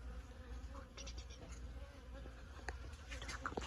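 Bees buzzing around fruit trees in a garden, a steady close insect drone with individual wingbeats rising and fading over a low outdoor background, no voices.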